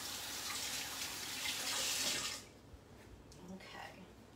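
Water runs from a kitchen tap for about two seconds as something is rinsed, a close hissing splash that cuts off into quiet room sound with faint speech.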